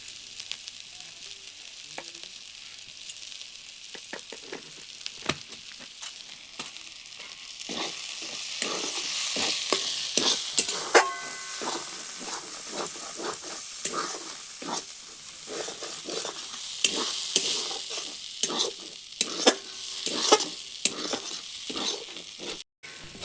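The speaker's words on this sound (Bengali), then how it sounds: "এরপর এটিকে কিছুক্ষণ ভেজে নেব" A pea filling frying in a pan with salt, a continuous crackling sizzle broken by frequent sharp spoon scrapes and taps against the pan, close and moderately loud, without talk.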